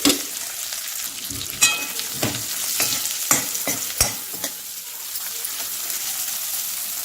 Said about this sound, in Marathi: मसाला भरून घेतलेली मिरची मिरची आपण मस्त फ्राय करून घेऊ